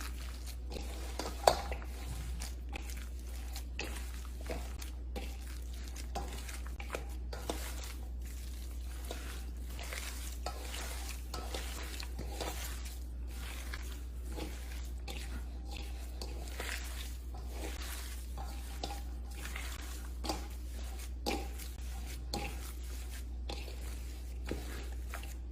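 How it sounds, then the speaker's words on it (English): Meat and ingredients being mixed together by hand, a long run of soft wet squishes and faint slaps, quiet and steady over a low hum. "You just wanna mix all that in together."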